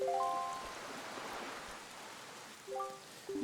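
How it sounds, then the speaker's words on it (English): Steady hiss of rain falling on a cursed island in the video game The Wind Waker HD, soft and even throughout, with a few short bright musical tones chiming over it near the start and end. "this place suffers under dark clouds and rain"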